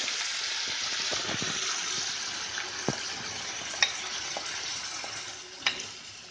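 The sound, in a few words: garlic frying in hot oil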